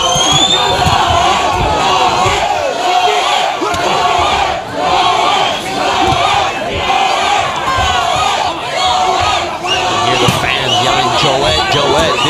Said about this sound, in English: this is a pro-Joet Gonzalez fight crowd